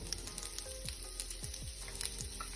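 Chopped garlic sizzles steadily in hot mustard oil in a pan, a close, continuous crackling hiss with small pops throughout.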